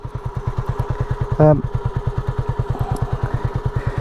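Honda CB250RS motorcycle running steadily, its single-cylinder engine thumping in an even, rapid pulse close by, with a brief louder clunk midway.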